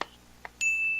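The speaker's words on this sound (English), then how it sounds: "Hear that stupid little bell." A small bell gives a few short dings, two brief strikes followed by a sustained ringing tone, faint against a quiet background.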